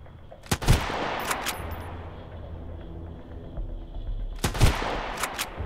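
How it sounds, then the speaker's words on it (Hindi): Automatic gunfire from the video game Sunken Land, with two loud bursts of rapid shots near the start and again near the end, separated by a steadier background rumble. "बाप रे ऑटोमेटिक गन चला रहा तू"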